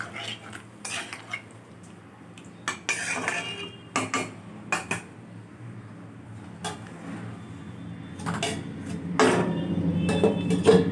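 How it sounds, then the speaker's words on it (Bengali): Metal lid set onto a cooking pot while Bengali hilsa fish curry with potato, taro and eggplant simmers, giving scattered clinks and clatters, with a louder rattling burst near the end; no talking. "এরপর একটা ঢাকনা চাপা দিয়ে কিছুক্ষণ সেদ্ধ হতে দিতে হবে"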